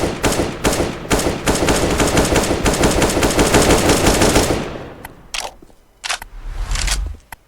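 Sustained rapid automatic gunfire from CS:GO on an old Russian community deathmatch server, loud dense bursts lasting several seconds, then a few scattered single shots and sharp clicks.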